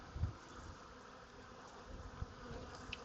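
Honey bees hum around an open hive, a faint, continuous buzzing drone with occasional brief bumps from nearby handling and no speech.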